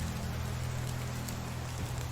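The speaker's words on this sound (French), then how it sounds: "je vais pas dire qu'il fait beau quand même, il pleut" Steady rain falls in the medieval village-building game Medieval Dynasty, a constant even hiss of drops over a low droning hum, with no speech.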